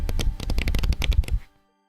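A handful of paper script is shuffled and rustled on a desk in a quick burst of crisp, close flapping and crinkling that stops abruptly.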